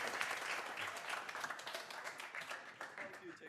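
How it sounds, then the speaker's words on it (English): Audience applause at a software conference talk, a dense, steady wash of many hands clapping close up throughout, with possible voices mixed in. "Round of applause for the man who actually found it."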